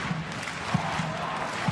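Adelaide United home crowd at an A-League football match against Western United, a broad roar of fans building in the distance, steady and moderately faint, with a few scattered shouts rising above it.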